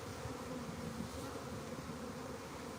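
Honey bees swarming outdoors at a bee farm fill the air with a dense, steady buzz, the close, continuous hum holding even throughout with no voices over it.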